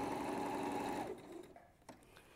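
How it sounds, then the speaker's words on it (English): A sewing machine stitching down a fabric lining runs in a fast, steady buzzing whir up close for about a second, then winds down and stops, leaving a quiet room with a light click. "And then I'm going to sew down the other side."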